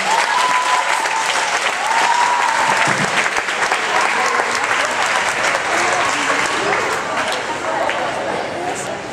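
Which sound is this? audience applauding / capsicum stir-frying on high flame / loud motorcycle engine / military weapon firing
audience applauding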